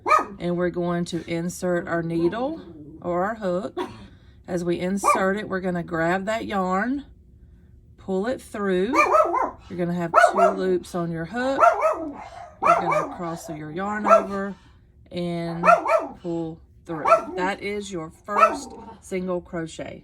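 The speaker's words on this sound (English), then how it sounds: "I apologize for the dogs barking." Dogs bark and yip intermittently in the background while someone talks steadily throughout, the barks scattered and partly masked under her voice.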